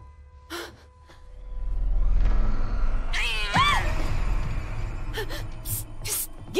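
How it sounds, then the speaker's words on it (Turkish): A house cat meows a few times inside a home, with breathy gasps and soft rustling around it; the calls are fairly close but not loud, and no speech is clear. "Evet, anlaşılan bu evin kedisiymiş."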